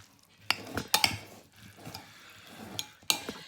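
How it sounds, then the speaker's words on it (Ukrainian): A spoon stirs salad with mayonnaise in a bowl, giving a few sharp clinks against the dish among soft wet mixing sounds, close and brief. "Розмішаємо то все"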